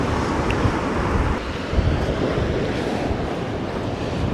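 Strong gale wind roars steadily across a microphone on a Moray Coast beach at Cullen, Scotland, with surf and waves washing continuously beneath it at night.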